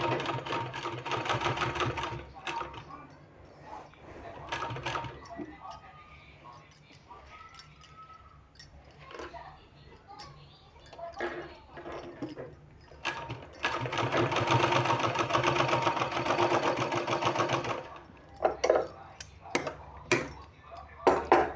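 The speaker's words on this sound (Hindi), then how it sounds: "इस तरह से बिल्कुल बीच में सिलाई लगाना है।" A sewing machine stitching a sleeve runs in several bursts of rapid mechanical whirring, close and fairly loud, with pauses between runs and a voice talking at times.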